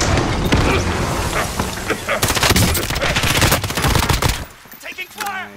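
Loud, sustained machine gun fire in a video game firefight, with dense rapid bursts that nearly fill the first five seconds before dropping to quieter scattered sounds at the end.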